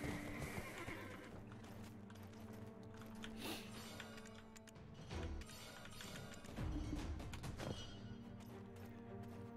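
A horse in the online game Black Desert Online whinnies loudly and repeatedly, with clip-clop hoofbeats and an occasional thud in a busy game soundscape, no voices.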